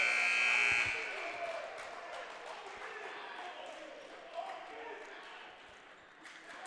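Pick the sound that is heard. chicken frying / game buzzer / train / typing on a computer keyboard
game buzzer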